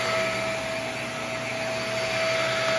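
A Shark Rotator/Navigator vacuum cleaner runs at a constant loud roar with a steady high whine, close by and uninterrupted, with no one talking.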